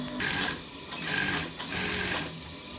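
A sewing machine stitching Agbada fabric runs steadily and close, its whirring hum rising and falling in a few short surges, with no talk.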